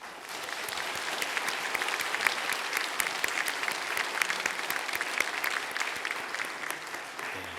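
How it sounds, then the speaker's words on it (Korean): A church congregation applauds to welcome guests at a worship service, loud sustained clapping from a large crowd that continues evenly throughout without pause. "우리 오신 분들 큰 박수로 한번 환영해 주시면 감사하겠습니다"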